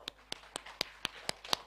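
Seven or so sharp, evenly spaced claps ring out faintly at a crypto trading boot camp in a hotel hall, each a crisp isolated smack with quiet gaps between, sounding like a single person or a few hands rather than a full crowd.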